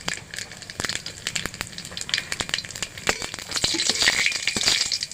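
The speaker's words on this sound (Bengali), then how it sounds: "আমি এর থেকে কিছু পরিমাণ কালো জিরে দেবো ফোড়নে।" Nigella seeds and broken dried red chillies crackle in hot oil for tempering, with sharp scattered pops over a soft sizzle that swells louder toward the end.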